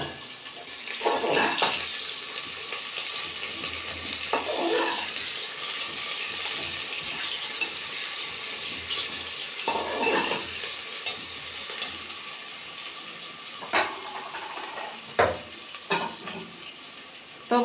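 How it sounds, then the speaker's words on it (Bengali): Chopped onions hit hot oil for mutton kosha, sizzling steadily up close with intermittent scraping and stirring knocks from a spatula in the pan. "এখন আমি কুচানো পেঁয়াজগুলো দিয়ে দেবো"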